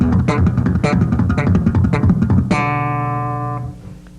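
Slap and pop lick on a bass guitar, a quick run of percussive thumb slaps and snapping pops, close and loud, ending on a sustained ringing note that fades out.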